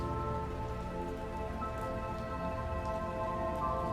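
Rain falls steadily in a continuous, even hiss and patter on a surface, with no voices.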